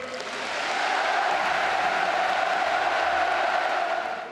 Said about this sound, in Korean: 우리 모두 문재인 대통령에게 열광적인 박수와 열렬한 환호를 보내줍시다